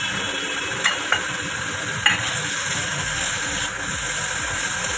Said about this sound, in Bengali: এটার মধ্যে আমি পনিরগুলোকে একটু টস করে নেবো এই কড়াইটাতেই